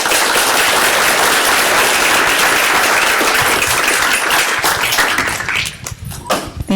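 A conference audience at a biotech showcase applauds loudly and densely after a company presentation, and the clapping thins out and fades into scattered claps toward the end.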